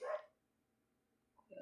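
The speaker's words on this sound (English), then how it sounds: "Excuse my dog barking out there." A dog barks outdoors in a short burst at the start, fairly faint and distant, then falls quiet before another brief yelp at the end.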